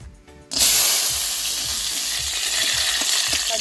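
Cashews, bay leaf and whole garam masala drop into hot white oil and burst into a loud sizzle that stays strong and steady, with a few faint stirring clicks.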